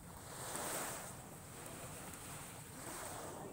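Steady rush of surf washing in at a beach in Lobo, Batangas, with wind buffeting the microphone; the wash swells and eases slightly without pause.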